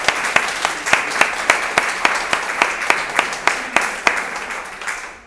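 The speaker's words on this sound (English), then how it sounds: "Everyone, let's give Michael a round of applause." Applause at an art award ceremony for an honorable mention winner in a juried exhibition, heard as a fairly sparse, rhythmic run of distinct claps from a small group, steady throughout.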